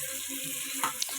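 Finely chopped onions frying in hot oil for a meal maker biryani, giving a steady close hiss and crackle for just over a second, with a couple of brief spatters near the end.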